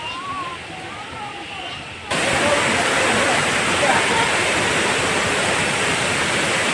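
A person speaks briefly over faint background noise, then a loud, dense roar of Sirimane Falls in Karnataka, swollen by monsoon rain, takes over abruptly and continues steadily.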